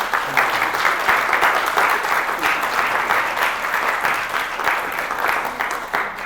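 Close, steady applause from a showcase audience for the artists in residence, dense clapping that holds at an even level throughout with no talk over it.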